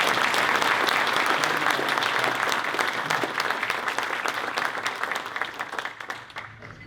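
An audience at a school district event breaks into sustained, loud applause, dense clapping that fills the space and gradually thins and fades toward the end with no talking.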